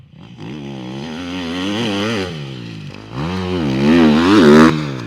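A motocross motorcycle rides the new Ernée track in France, its engine loud and close, rising and falling in pitch as the rider revs through the gears over several seconds.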